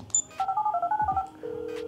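In GTA 5 on PlayStation 5, a mobile phone dials to set off a bomb: a quick run of about eight close, clear keypad tones, then a steady ringing tone, with no talking.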